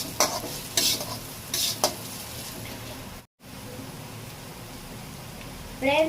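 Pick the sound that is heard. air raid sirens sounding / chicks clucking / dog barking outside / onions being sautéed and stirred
onions being sautéed and stirred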